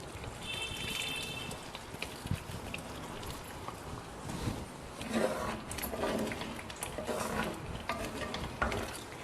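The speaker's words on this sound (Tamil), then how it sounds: "இப்போ இதில் புளி தண்ணியும் ஊற்றிக்கலாம்." Tamarind water poured into a simmering ivy gourd curry, a soft trickling splash over gentle bubbling and stirring, with occasional clinks of utensils against the pan, close and quiet.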